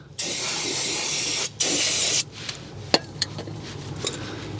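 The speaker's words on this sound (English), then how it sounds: "come back in here with some parts cleaner. Just spray the area" Two long, loud hissing bursts of aerosol parts cleaner sprayed on an oily area during an oil change on a 2016 Buick Enclave, separated by a brief pause, followed by quieter clicks and faint rustling.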